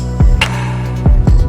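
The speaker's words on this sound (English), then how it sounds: "So here comes the snare." Snare drum hit in an R&B beat built in FL Studio, a single sharp crack landing over deep thumping kick and bass pulses in a short loop.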